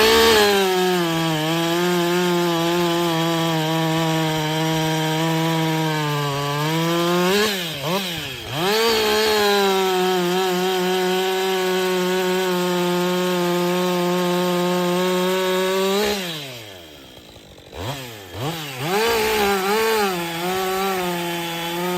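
A chainsaw fitted with a freshly filed Oregon chain cuts through wood. The engine holds a loud, steady whine, and its pitch sags and wavers briefly twice as the chain bites in, then recovers.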